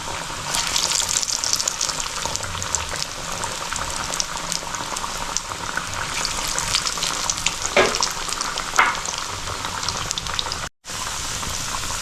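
Chana dal vada frying in hot oil, a loud, continuous close-up sizzle and bubble that crackles steadily throughout, dropping out for a split second near the end before resuming, with no talking.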